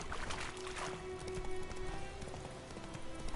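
Geralt's horse Roach trotting in The Witcher 3: a steady, close clip-clop of hooves that runs throughout over a faint background wash, with no talking.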